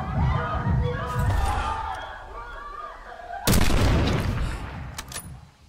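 Gunfire rings out in the Call of Duty Black Ops 6 video game: a loud, booming burst of shots erupts midway and rumbles on, with voices from the game's dialogue heard before it.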